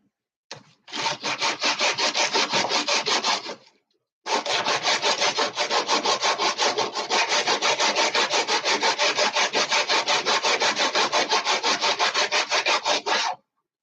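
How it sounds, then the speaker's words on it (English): Sandpaper rubs hard against wood for a homemade laptop stand, with a fast, steady back-and-forth rasp that pauses briefly and then resumes, close and loud, with no talking. "let's sandpaper this first and then Dremel"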